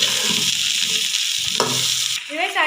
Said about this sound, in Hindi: देखिए भिंडी को हम फ्राई कर लेंगे।